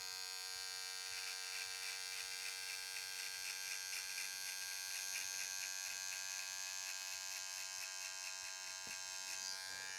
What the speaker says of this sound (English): now I'm gonna grab a trimmer, and we're gonna make a nice little line